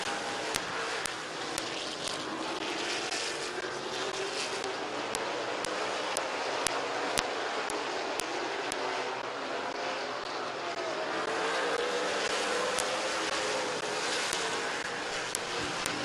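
Race cars running side by side at Midvale Speedway, a continuous loud roar of engines with a rising and falling drone, distant crowd-like wash behind.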